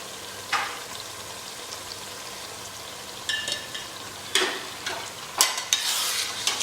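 Garlic-ginger paste with chilli, turmeric, coriander and salt being stirred and fried for palak chicken curry, a soft steady sizzle broken by a few scraping stirs of the spoon.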